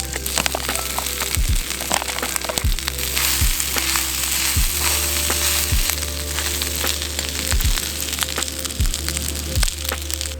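Ben's Original fried rice sizzles steadily and loudly in a pan at a snowy winter camp, with the occasional clink of a utensil stirring it.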